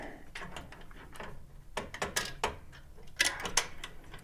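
Bolts being started by hand while fitting a replacement car horn, close up in binaural sound: a run of small metallic clicks, scrapes and ratcheting taps, irregular and near, with no talking.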